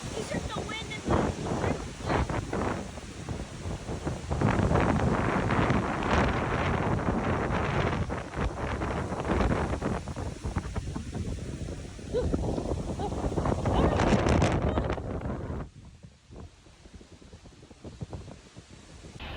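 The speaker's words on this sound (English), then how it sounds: "it's just the wind" Wind blows steadily across an outdoor microphone in Ashe County, a loud continuous rushing roar with gusty swells, easing somewhat near the end.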